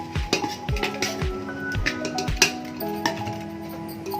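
Jaggery and rice flour are mixed in a bowl with a spoon, giving close, irregular clinks and scrapes of metal against the dish, with occasional sharper knocks.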